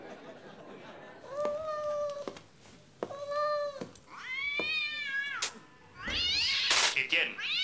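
A hungry cat gives several clear, close meows in a row, each one rising and falling, with laughter and speech mixed in near the end.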